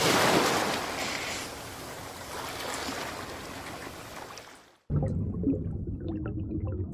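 Ocean waves crashing against rocks, used as a story sound effect: a loud, rushing surge fades out, then a quieter wash of water with small splashes follows.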